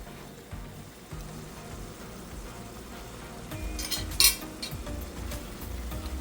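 A spoon scrapes and stirs ground beef sauce in a pan, a soft, continuous shuffling and sizzle with a few sharper clinks near the end, faint and close.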